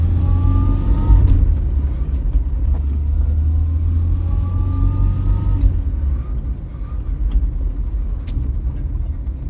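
A 1975 Vauxhall Viva HC, a barn-find car under driveway restoration, drives along with its engine revving in a loud, steady rumble that eases slightly toward the end, with road noise underneath.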